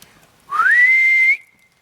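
A person whistles a single sustained note that slides upward and then holds steady, imitating a Sasquatch call in the woods. It is close and clear, lasts under a second, and stands alone without talk.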